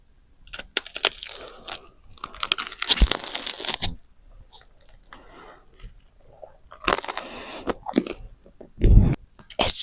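Someone bites into crunchy toast topped with very ripe banana slices, giving close, loud crunches and chewing in bursts with quieter pauses between them.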